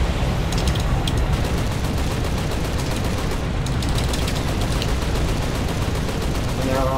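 Bomber gunners fire machine guns in War Thunder, a dense, continuous stream of loud rapid gunfire filling the whole stretch with no pause.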